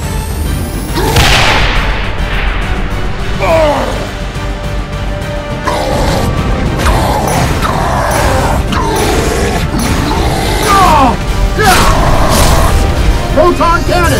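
Iron Man repulsor blast effects in a superhero battle against the Hulk: a dense, loud run of whooshing booms and crashing impacts repeating every second or two, with a voice calling out over the action.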